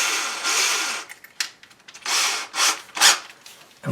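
A drill with a larger bit bores a roughly quarter-inch hole in a kitchen cabinet, running in short, uneven bursts with brief pauses between them.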